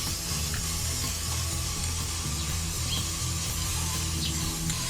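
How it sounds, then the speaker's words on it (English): A spray paint can lays metallic silver paint onto cosplay armour in one continuous, loud, close hiss that holds steady for several seconds without a break. "while it's wet, I'm going to spray over it as well with the metallic"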